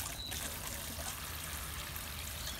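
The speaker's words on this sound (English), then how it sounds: "we'll add some more water." Water is poured onto a banana plant, making a steady, close trickling stream that lasts the whole moment with no talk over it.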